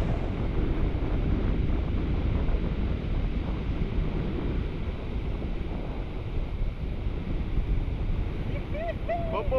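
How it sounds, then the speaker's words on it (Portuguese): Strong wind buffeting the microphone at the beach beside a fishing jangada, a loud constant roar with surf beneath, and voices talking briefly near the end. "agora o vento tá bravo, menino"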